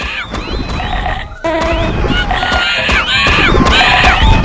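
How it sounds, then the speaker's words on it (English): Cartoonish Donald Duck-style voices shriek and quack in a loud, overlapping chaotic chorus from a platformer video game, with electronic game sounds layered throughout and no pause in the racket. "Why do these little guys have to scream all the time? What cacophony of quacks is this?"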